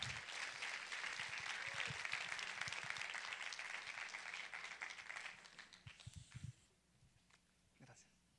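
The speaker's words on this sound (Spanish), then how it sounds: "Y reciban un fuerte aplauso a Israel Espinosa." A crowd applauds loudly for several seconds, then the clapping thins and dies out, leaving a few scattered claps.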